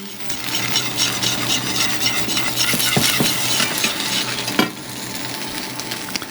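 Mustard stirred into a sizzling pan sauce for a turkey cutlet, a continuous close bubbling hiss under brisk spoon scraping with a few sharper knocks against the pan.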